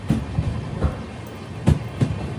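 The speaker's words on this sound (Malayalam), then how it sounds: "ട്രെയിൻ ഇതാ എക്താനഗർ റെയിൽവേ സ്റ്റേഷനിലേക്ക് എത്തുകയാണ്" A train arriving at Ekta Nagar railway station in Gujarat rumbles along with rhythmic clickety-clack of wheels over rail joints, heavy thumps recurring every half second or so.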